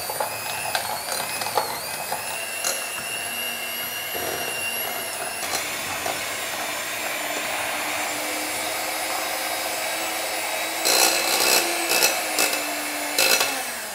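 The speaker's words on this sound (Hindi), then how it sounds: "विप क्रीम को बीट कर लेंगे।" An electric hand mixer whips cream in a bowl for a creamy custard, giving a steady whirring motor drone for about fourteen seconds with brief rattling bursts near the end as the beaters knock the bowl. No talking.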